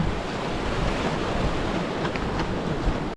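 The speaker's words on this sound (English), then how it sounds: "Big waterfall over this way." A big waterfall on a glacier, among superglacial streams, gives off a steady, dense rush of roaring water mixed with wind buffeting the microphone, heard continuously at moderate volume with no voices.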